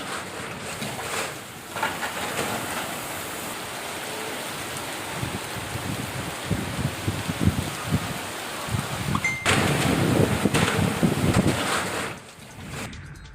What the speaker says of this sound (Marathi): विजांच्या कडकडाटासह वादळी वाऱ्यासह मुसळधार पाऊस झाला